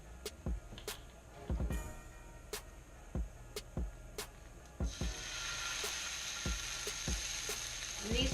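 A tablespoon of capers dropped into hot oil in a pan, with quiet clicks and taps before a soft, steady sizzle rises and keeps going, close and fairly faint.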